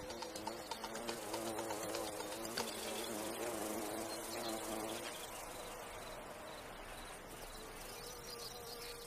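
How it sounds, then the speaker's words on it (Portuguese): Bumblebees buzz around foxglove flowers in a garden, a steady insect hum with a chirping, cricket-like texture running continuously throughout, no talk. "Tem uma área de pouso para os abelhões ficarem antes de lhes dar de beber."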